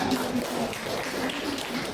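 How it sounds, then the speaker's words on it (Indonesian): Audience applause at a university lecturer certification session, a steady dense patter of many hands clapping that fills the whole stretch at moderate level, with faint voices underneath. "Baik, tepuk tangan."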